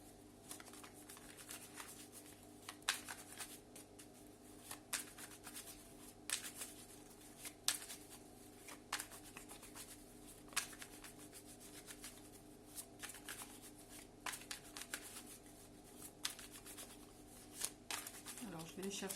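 Tarot cards being shuffled and handled, with soft rubbing and flicking that repeat in faint bursts under a quiet, steady background.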